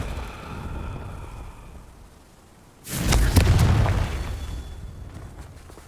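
A Confringo spell explosion in Hogwarts Legacy lands as a single loud, booming blast that rises suddenly and then rumbles away over a couple of seconds after a quieter stretch.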